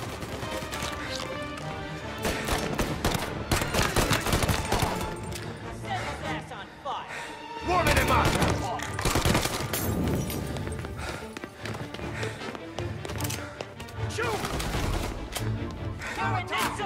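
Gunfire in the video game Mafia Definitive Edition, loud repeated shots and bursts mixed with game music and effects, with voices talking over the action.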